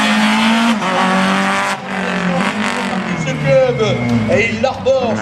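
A C2R2 race car launches at a slalom event in Agon-Coutainville, its engine roaring loud and close and rising in pitch as it accelerates away, with a voice talking over it throughout.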